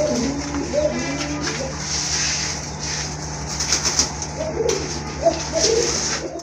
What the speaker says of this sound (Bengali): খুবই ভালো ডাকে, খুবই কোয়ালিটি সম্পন্ন এক জোড়া কারণ আমাদের কবুতর